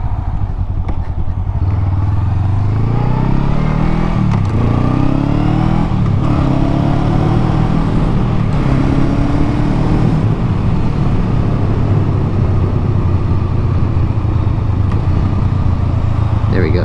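A car engine revs up and drops back repeatedly through downshifts while circling a parking lot, loud and close throughout, with people talking over it.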